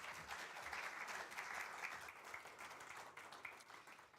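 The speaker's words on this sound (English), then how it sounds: "An applause, ladies and gentlemen." Conference audience applauding after a professor's talk on offshore power for e-fuels, a steady dense patter of many hands clapping throughout, moderately distant and without speech.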